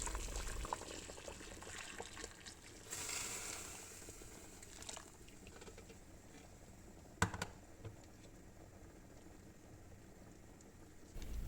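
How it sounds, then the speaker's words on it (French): Water is poured into a pot of lamb cooking for Tunisian couscous, a faint splashing and bubbling wash with a brief louder burst near the start and a sharp clatter partway through, no voices. "Une fois j'ai ajouté l'eau"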